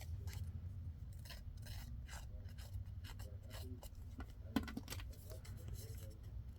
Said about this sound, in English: We'll just put a little distress on it with the distressing tool.